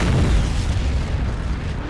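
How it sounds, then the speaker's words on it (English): A loud, rumbling explosion in the World War II shooter game Heroes and Generals, a sustained low boom that fills the whole moment with no voices over it. "That was an explosion."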